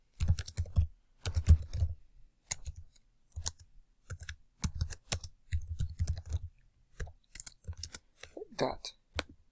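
Typing on a computer keyboard during a kids' interactive app demonstration, a run of close, crisp key clicks in quick bursts separated by brief pauses.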